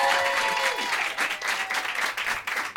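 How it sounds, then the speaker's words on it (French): A live studio audience applauds warmly, a dense burst of clapping that swells and then thins over a few seconds, with a faint voice briefly over the start. "Est-ce qu'on peut l'applaudir s'il vous plaît?"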